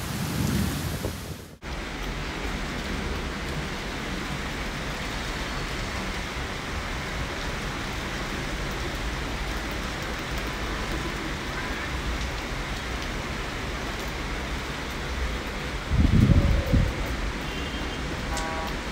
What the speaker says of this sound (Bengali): আবার বৃষ্টি পড়তে শুরু করেছে।